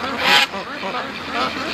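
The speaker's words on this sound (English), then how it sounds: "I hear ducks." Free-range ducks quack in short bursts outdoors, moderately close, with a voice talking over part of the calls.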